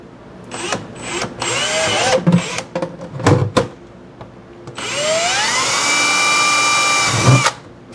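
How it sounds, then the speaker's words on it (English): A 5/16 drill bit boring holes through a plastic bucket lid: a close, loud power drill whines in several short bursts and then runs one long sustained stretch that rises in pitch, with no talking. "we're gonna drill some holes in the lid for the pipes"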